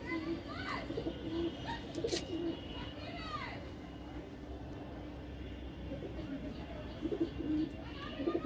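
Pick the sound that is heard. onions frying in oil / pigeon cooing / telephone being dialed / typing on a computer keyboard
pigeon cooing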